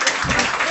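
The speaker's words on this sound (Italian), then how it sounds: "lo si accoglie con un applauso" An audience applauds to welcome performers at an evening gathering, a short dense burst of many hands clapping, steady and fairly loud with no gaps.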